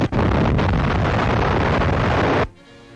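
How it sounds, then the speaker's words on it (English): Aerial bombs burst in 1940s wartime newsreel footage, a dense, loud, continuous roar of explosions that cuts off abruptly, leaving a faint low hum. "Air bombs blot out Jap strong points, and the bomb bursts are like a flooding tide of fiery explosions."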